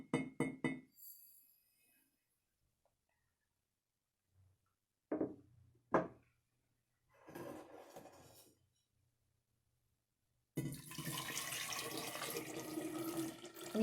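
Boiled water poured into a mason jar holding sugar for hummingbird nectar, a brief splash and trickle with glassy clinks, then a longer steady pour that runs to the end, close and fairly loud.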